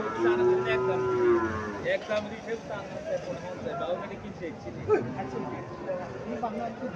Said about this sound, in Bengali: এখানে দুইটা শাহিওয়াল জাতের বাছুর দেখা যাচ্ছে